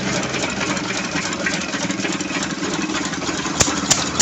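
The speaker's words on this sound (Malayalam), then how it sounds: "ഒരു വാട്ടർ കൂൾഡ് എഞ്ചിൻ വെച്ചിട്ടാണ് ഇവിടെ കരിമ്പ് ജ്യൂസ് അടിക്കുന്നത്." An old-style belt-driven sugarcane juice machine powered by a water-cooled engine runs with a steady, close, loud drone and chugging rumble, with a few sharp knocks near the end.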